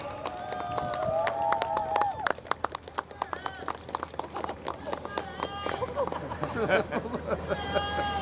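An audience at a Korean campaign event for a candidate claps in bursts of sharp, scattered hand claps, with chatter and a speaking voice mixed in throughout.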